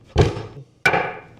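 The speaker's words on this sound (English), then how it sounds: "when I was hammering on it with that mallet" A wooden mallet knocks legs into a handmade coffee table with two solid thuds about half a second apart, each ringing briefly. The hits are close and loud, with no talk.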